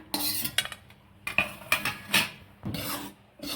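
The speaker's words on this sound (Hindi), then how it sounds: "और अब ये कढ़ैया हम हटाएँगे, हम चढ़ाएँगे दूसरी कढ़ाई।" A wok (kadai) is lifted off a home stove and another set down in its place. Metal scrapes, rubs and clanks come in several bursts over a few seconds, close and fairly loud, with no talking.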